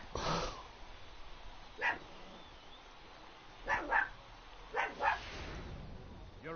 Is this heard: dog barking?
yes